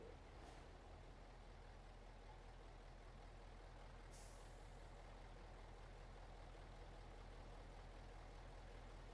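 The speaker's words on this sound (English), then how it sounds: "I rev my engine at you." A truck engine in a valley off-road driving game, a MAZ, rumbles steadily at low pitch, with a brief hiss of air release partway through; constant and moderately loud with no voices.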